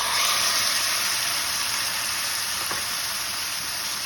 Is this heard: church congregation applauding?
no